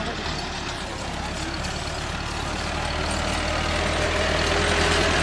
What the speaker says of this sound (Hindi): ट्रैक्टर आ गया ने